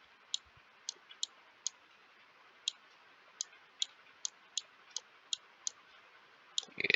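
Marker or chalk tapping and scraping on a board while writing out a geometry proof: about a dozen short, sharp ticks at an uneven pace, quiet and close, with no talking.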